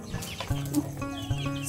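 A black laying hen clucking close by, a few soft throaty clucks and low calls in a quiet farmyard.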